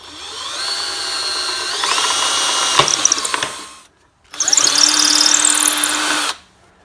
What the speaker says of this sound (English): All the holes are drilled, and now it's ready for the next step.